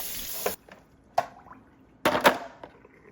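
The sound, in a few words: espresso machine drip tray being emptied and washed in sink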